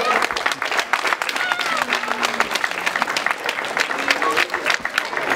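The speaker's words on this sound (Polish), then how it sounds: "Gorące brawa." Warm, dense applause fills a hall at an indoor youth football tournament for players born in 2008, greeting parents called forward at the closing ceremony; the clapping runs steadily throughout while voices talk over it.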